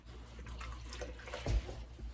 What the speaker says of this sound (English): And you need half a cup of water.